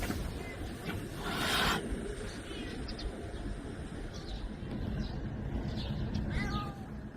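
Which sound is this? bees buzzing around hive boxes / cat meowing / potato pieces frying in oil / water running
cat meowing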